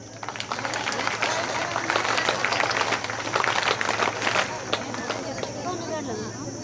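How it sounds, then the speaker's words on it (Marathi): An audience at a self-help group welcome event claps in a dense, sustained burst of applause, mixed with voices. "सर्वांनी स्वागत टाळी वाजवायची."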